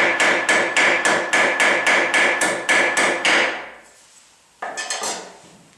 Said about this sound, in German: ich mit dem Holzhammer über mein Birdeleisen das Material getrieben habe